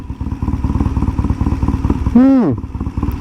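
A Triumph T140 motorcycle engine idles close by with a steady, rapid thumping pulse, briefly joined by a rising and falling tonal whine before the idle carries on.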